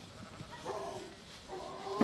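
Sheep bleat twice in a New Zealand farm yard, the wavering calls fairly near over faint background noise.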